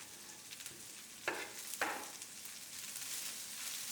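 Chopped vegetables and garlic stir-frying in hot oil over high heat for street-style veg chowmein, a steady close sizzle broken by two sharp metallic scrapes or tosses near the middle.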